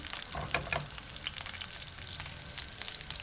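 Oil crackles and sizzles around frying peppers in a pan, close up, with occasional louder pops and a faint stirring scrape.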